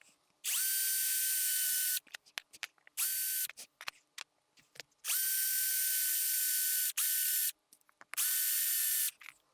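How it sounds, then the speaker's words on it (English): A small power drill bores shallow eye sockets into a wooden fishing lure in four separate high-pitched whining bursts, with small clicks and handling noises between them. "I will drill in a couple eye sockets, just not very deep"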